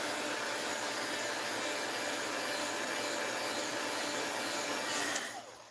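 A heat tool blows hot air to melt a stray string while crafting, a steady, loud broadband whoosh that runs continuously and then cuts off sharply near the end.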